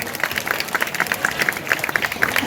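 A crowd applauds at a lively village gathering in Bali, busy overlapping claps with a few sharper hand strikes standing out, fairly close and continuous.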